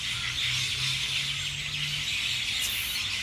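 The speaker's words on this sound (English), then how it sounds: "you can hear those weird sounds. These are birds in the tree." Birds calling from a tree in Namber, Australia: a steady, dense wash of high chirping and twittering that fills the whole stretch, with a low hum running underneath and no talk.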